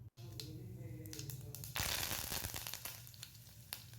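Curry leaves crackle and sizzle frying in hot oil, with a louder burst of spattering partway through that settles into steady crackle.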